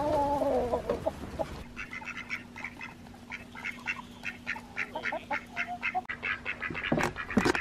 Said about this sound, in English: The broody hen ain't gonna like it when I collect her eggs.